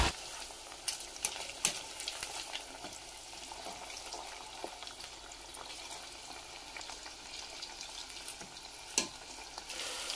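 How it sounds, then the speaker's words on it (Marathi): Chicken pieces frying and being stirred in a crowded kadhai for a Chinese-style meal, a steady crackling sizzle with occasional sharp scraping clicks, close and even throughout. "हे बघा चिकन मस्तपैकी फ्राय झालंय।"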